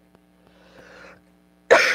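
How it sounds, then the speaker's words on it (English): A single harsh cough bursts out close to a microphone near the end, preceded by faint clicks and a soft murmur of low background sound. "I don't mean to cough into the mic."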